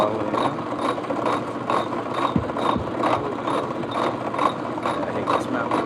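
A steady mechanical grinding with a regular pulsing rhythm as a drill press cuts through wet calcite stone for a sphere, continuous and fairly close.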